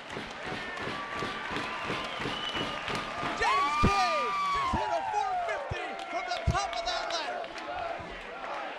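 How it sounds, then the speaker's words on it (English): A wrestling crowd roars after a 450 splash from the top of a ladder, giving a loud, sustained, fairly distant cheer. A commentator's voice and sharp impact thuds cut through the noise. "And the crowd went nuts."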